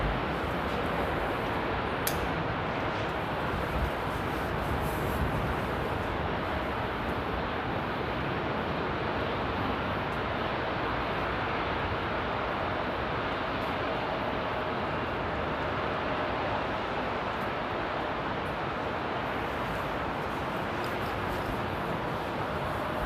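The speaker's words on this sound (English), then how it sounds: "there's an Aegean rolling down the runway right now" Aegean airliner rolling down the runway for takeoff at Amsterdam Airport, a steady broad engine roar heard from a distance with wind noise, holding level for the whole stretch.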